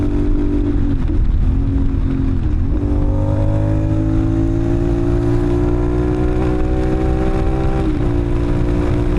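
A CFMoto 450NK motorcycle on the road, its engine a loud, continuous drone whose pitch climbs steadily, broken by short dips at gear changes before pulling up again.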